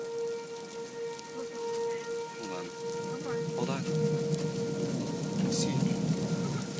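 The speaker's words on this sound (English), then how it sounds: "it is now downpouring rain" Heavy rain pours down during a storm under a tornado watch on a university campus parking lot, a steady roaring hiss with a constant tonal hum in the background and a brief spoken remark.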